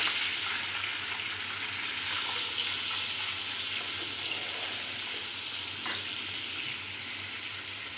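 Onions sizzling in hot oil in a pan for white matar pulao, a continuous steady frying hiss with occasional soft stirring sounds, close and alone without talk.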